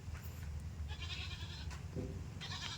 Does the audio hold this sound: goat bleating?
yes